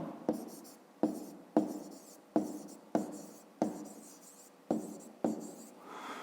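A pen writes out a math solution on paper in a row of about eight crisp, evenly spaced strokes, close and fairly quiet, with no one talking.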